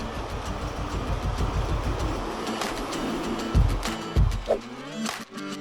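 A high-speed train running between Taichung and Chiayi in Taiwan, a steady rolling rumble of the carriages throughout with a few louder low thumps near the end.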